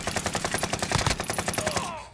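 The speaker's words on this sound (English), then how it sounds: "We shot at the same time." Rapid video-game gunfire crackles in a dense rhythmic burst of many shots lasting about two seconds, loud and close, then cuts off abruptly.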